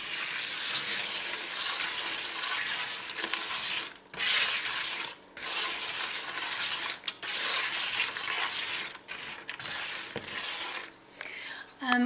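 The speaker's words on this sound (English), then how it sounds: "You want to make sure you keep stirring this whole time because you want it to soak up all of the syrupy mixture and get coated." Cinnamon almonds are stirred in a syrupy mixture in a pan, a steady gritty scraping and sizzling hiss broken by brief pauses.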